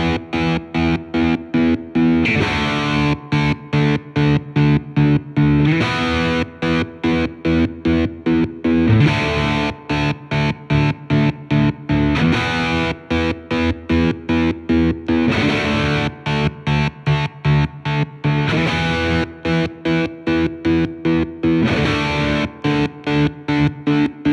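Fender Tom Morello Stratocaster electric guitar played with heavy distortion, a loud, driving riff of chugging chords and rhythmic stops that repeats for over twenty seconds, with no talking.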